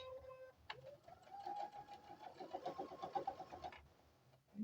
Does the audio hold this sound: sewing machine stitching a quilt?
yes